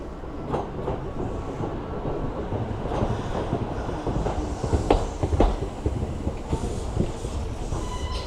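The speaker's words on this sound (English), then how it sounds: "this train really rushed to get here" A Kintetsu Suzuka Line train rumbles in steadily, with clattering wheels and a few sharp squeals and clicks as it comes close and loud.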